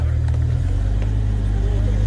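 A BMW M5 pulls away with a deep, steady low engine rumble, loud and close throughout, while people nearby talk over it.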